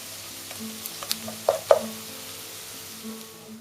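Filling for potato stuffed meatballs (içli köfte) is stirred in a pan, giving a few soft spoon scrapes over a faint low sizzle, quiet and close, with no talking.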